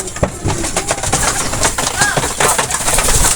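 Racing pigeons coo in a loft setting at a pigeon race, a low repeated cooing under background voices and general bustle.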